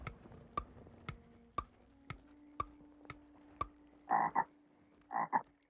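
Regular ticking clicks under a low hum, then two pairs of loud, throaty frog croaks near the end, a sound effect from the video game Alone in the Dark.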